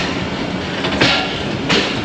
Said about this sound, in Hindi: झेलम पे रुकती है ट्रेन